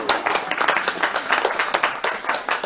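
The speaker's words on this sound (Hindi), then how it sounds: "थोड़ा तो ताली तो, हाथ ताली तो दे मुझका।" An audience at an evening devotional house program in Rijswijk, Holland claps hands together in a steady, brisk burst of applause, fairly close and dense throughout, with no speech over it.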